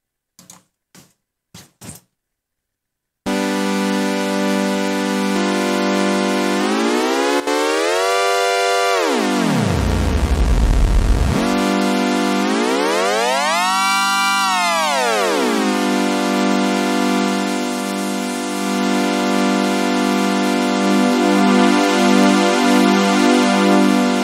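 A few clicks, then a loud buzzy synthesizer plugin tone played from a Casiotone CT-S1000V keyboard sweeps sharply down and back up in pitch, wobbling and bending as knobs are turned, sustained and close.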